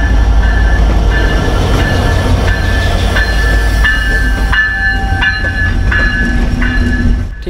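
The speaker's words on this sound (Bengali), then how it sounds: "ঠিক 50 মিনিট বিলম্বে আমাদের ট্রেনটি স্টেশনে প্রবেশ করল।" A passenger train pulls into a railway station near the Harding Bridge, rumbling loudly and close with rhythmic wheel clatter and repeated high metallic squeals as it slows, then eases off at the end.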